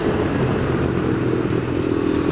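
A KTM 390 Adventure motorcycle riding around Shasta Reservoir, its single-cylinder engine droning loud and steady at cruising speed, close up and buffeted by wind rush throughout.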